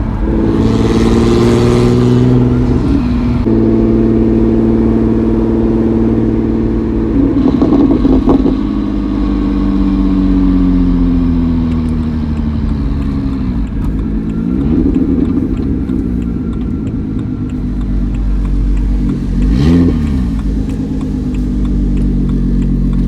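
A BMW 135i with an N54 engine converted to a single turbo drives and accelerates hard, its loud engine climbing through several revving pulls with gear changes and brief dips between them, heard from close inside the car.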